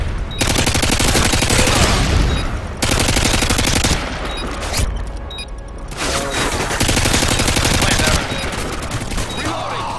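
Rapid automatic gunfire from the video game Highrise rattles in long, loud, dense bursts with short breaks between them, filling nearly the whole stretch.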